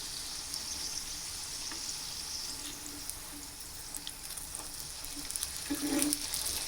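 A stuffed egg paratha fries on a medium flame, giving a steady, moderately loud oil sizzle with a few faint clinks and a brief louder crackle near the end, with no voices.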